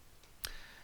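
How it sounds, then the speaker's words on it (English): A single short, sharp mouse click sounds close and quiet against faint background hiss. "And click next."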